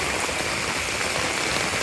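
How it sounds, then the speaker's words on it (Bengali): Heavy morning rain pours steadily in Dhaka onto knee-deep flooded streets, a dense, loud wash of falling water with no pauses. "মানে একটা ঘন্টা বৃষ্টি হচ্ছে মানে বৃষ্টি কি প্রচণ্ড বৃষ্টি"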